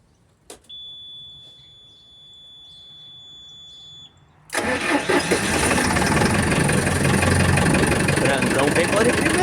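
A starter whines briefly over a faint electronic tone, then a large engine catches and settles into a loud, steady rumbling idle.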